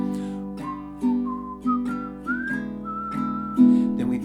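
Melodic whistling carries a song melody over a G to E7 ending with guitar chords strummed underneath, a run of clear sustained whistled notes rising and falling across the passage.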